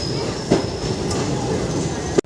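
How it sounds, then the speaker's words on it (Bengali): A passenger train rolls out of Malda Town station, with a steady rumble of wheels and carriage noise, faint rhythmic clatter and a sharp knock near the end, heard from inside the coach. "প্রায় 15 মিনিট অপেক্ষা করার পর আমাদের ট্রেন ছেড়ে দিল মালদা টাউন।"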